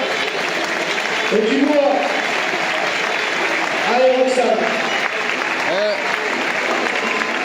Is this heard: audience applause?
yes